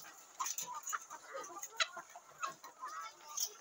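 Chickens on a backyard farm clucking and calling in short, scattered bursts, some near and some farther off, with a dog-like note among them and no talk.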